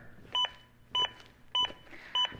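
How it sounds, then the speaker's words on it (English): Four short electronic beeps from an AED trainer's CPR metronome at a steady, brisk pace, each a bright two-tone chirp, over a faint low background hum. "The beeps act as an adaptive metronome that monitors my compressions and tries to speed them up"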